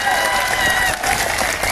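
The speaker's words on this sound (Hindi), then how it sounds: "अब बजाओ ताली" Crowd applauding at an RLP political rally, a dense burst of clapping that fills the whole moment at close range, loud and sustained, with a faint trace of voices mixed in.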